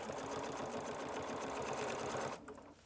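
A sewing machine with a heavy denim needle stitches a fabric tube, running steadily and loudly at high speed before slowing and stopping near the end.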